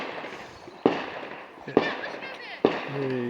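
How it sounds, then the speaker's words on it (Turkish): Three sharp, loud celebratory gunshots ring out about a second apart in a village, marking the end of Ramadan, echoing outdoors, with brief voices in between. "silah seslerini duyuyorsunuz"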